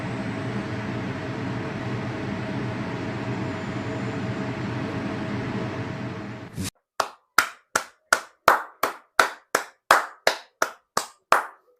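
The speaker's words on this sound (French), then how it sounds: "Oui, j'applaudis parce que c'est très important." A single person claps slowly and steadily, about a dozen sharp, evenly spaced claps close by, after several seconds of dense crowd noise.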